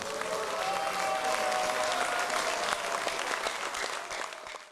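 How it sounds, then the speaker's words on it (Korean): Loud, sustained applause and cheering from a room of lawmakers opening the 2022 National Assembly members' conference, a dense wash of clapping that holds steady and tapers slightly at the end. "2022년 국회의원 연찬회를 의원님들의 큰 박수와 환호로 시작하겠습니다"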